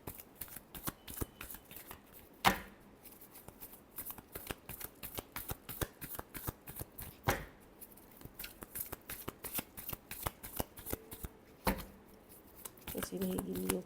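A deck of tarot cards being shuffled by hand in a Leo horoscope reading, with a steady run of rapid, close papery riffles and flicks and a few sharper bridge snaps, with no voices heard.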